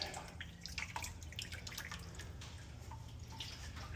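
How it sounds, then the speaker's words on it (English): Water poured into a square fish tank makes a faint, steady splashing and dripping trickle with no talking. "I'm gonna go ahead and add some water"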